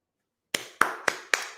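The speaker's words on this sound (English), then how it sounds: "Everybody giving applause for the retarded boy." Four sharp hand claps spaced roughly a quarter second apart, close and crisp, following a moment of silence.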